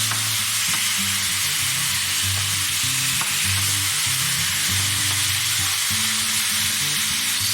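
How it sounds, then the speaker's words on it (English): Chuck steak sizzles loudly and steadily in a frying pan after soy sauce and Worcestershire sauce are added, with occasional stirring and clinking close by and no talking. "Sizzle."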